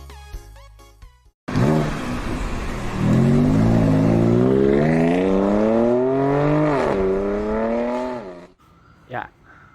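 A 1996 Mitsubishi Pajero with a 3000cc V6 petrol engine revs loudly and close by, climbing steadily in pitch over several seconds after a brief pause, then cutting off sharply.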